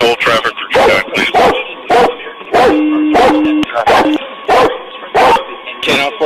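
A police dog barks in repeated sharp bursts during a chaotic traffic stop, loud and close, mixed with shouting voices and a steady siren-like tone in the background.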